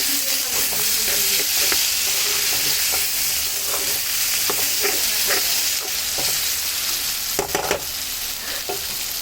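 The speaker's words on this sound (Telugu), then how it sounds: "ఉల్లిగడ్డ చేపలు అయితే ఫ్రై అవుతున్నాయి మంచిగా." Onions and fish frying in a pan over a low flame, a steady close sizzle and crackle with intermittent stirring clicks and spatula scrapes, no voices.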